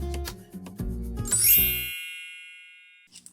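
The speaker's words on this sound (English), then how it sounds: "It's now transformed into a beautiful wind chime." A wind chime of old chair spindles, upcycled from a broken chair, clinks in a quick cluster of wooden-toned knocks and bright ringing strikes, then the last ringing tone fades slowly into near silence before a faint tap.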